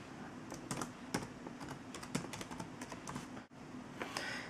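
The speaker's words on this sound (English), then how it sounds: "Type the password properly" Rapid, uneven keystrokes on a computer keyboard while a password is entered, close and clear over a faint room hum, with a brief gap near the end before a few final taps.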